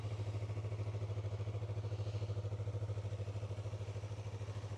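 A 2019 Yamaha R3 motorcycle with 12,970 km on it idles steadily up close, its engine pulsing in an even, low rhythmic throb throughout with no voices.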